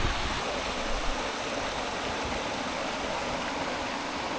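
Creek water rushing steadily over rocks on a day hike, a loud, continuous broadband wash close by with no pauses or voices.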